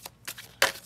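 Tarot cards are shuffled in a quick, close riffle of about four crisp, papery bursts within a second, one louder than the rest, with no talk.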